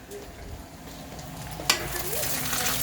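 Garlic peanuts frying, a steady, moderate sizzle with a sharp clack partway through and the hiss growing slightly louder toward the end.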